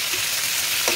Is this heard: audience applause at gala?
no